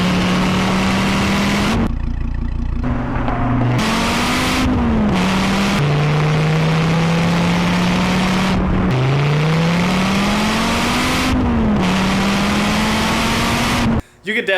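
A manual Dodge Viper sports car revs and accelerates hard, the engine note climbing in repeated pulls with sharp gear-change drops between them, loud and close, continuous for most of the stretch.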